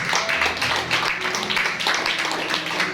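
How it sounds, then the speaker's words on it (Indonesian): A church congregation at an Easter sermon claps together in praise to God, a dense rhythmic patter of many hands at moderate volume with murmuring voices mixed in. "Yang setuju tepuk tangan bagi Allah."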